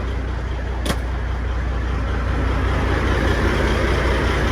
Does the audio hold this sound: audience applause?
no